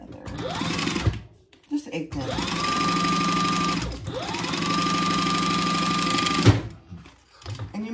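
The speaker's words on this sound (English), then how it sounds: "Now we are gonna baste the sides together." Basting the sides of a handbag, a sewing machine runs in three short bursts, each motor ramping up to a steady whirring hum before stopping, close and fairly loud, with a brief word of speech.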